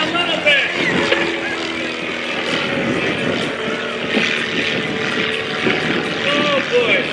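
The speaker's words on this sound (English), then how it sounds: "Doing things with this airplane it was never designed to do." Propeller aircraft engine performing aerobatics at the 2025 Westmoreland County International Airshow, a steady loud droning roar with slight surges, heard under an announcer's voice over the PA.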